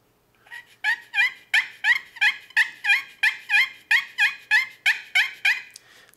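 Turkey friction call worked with a striker held at a half-cocked angle, producing a steady series of about eleven loud, sharp yelps in an even rhythm, close and alone.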